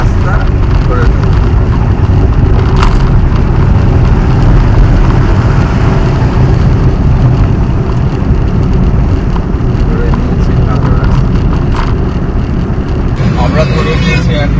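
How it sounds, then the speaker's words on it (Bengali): A car on the road from Kolkata toward Kolaghat gives a loud, steady rumble of engine, tyres and wind noise throughout, with someone speaking over it. "পেছন পেছন আমি এগিয়ে নিয়ে যাচ্ছি গাড়ি।"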